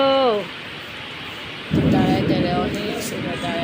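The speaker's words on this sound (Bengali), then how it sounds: "অনেক বৃষ্টি হইতেছে ঢাকায়" Heavy rain pours steadily in Dhaka as a close, loud roll of thunder breaks in partway through and rumbles under the hiss to the end; a brief voice is heard at the very start.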